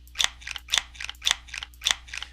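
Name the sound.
video game sound effect of spring-return wire strippers cutting wires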